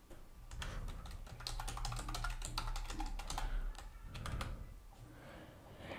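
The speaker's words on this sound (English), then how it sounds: "type screenshot" Computer keyboard typing in quick bursts of keystrokes, entering a short search term, close and clear with no talking over it.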